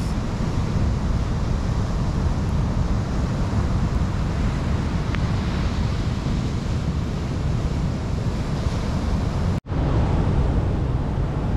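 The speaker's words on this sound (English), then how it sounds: "It's just us and the fire and the sound of the waves." Pacific surf rolls onto a quiet wilderness beach at night in Olympic National Park, a close, continuous rushing roar of breaking waves with wind buffeting the microphone and a brief dropout near the end.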